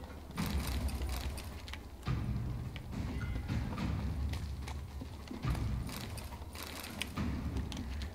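Horse hooves clip-clop steadily through The Witcher 3 game audio, a repeated rhythmic thudding of shod steps set against a dense, clattering background with mechanical creaks, fairly loud and continuous, no talking.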